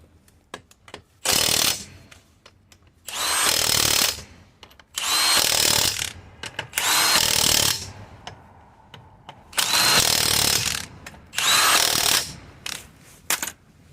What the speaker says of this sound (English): 19mm impact socket on our gun